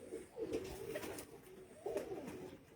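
Pigeons on a rooftop coo softly in two short throaty bursts, faint and close, over a quiet background.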